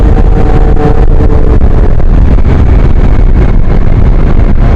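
A scooter fitted with a Yasuni exhaust cruises at speed on light throttle, its engine drone buried under loud, continuous wind buffeting from the moving ride.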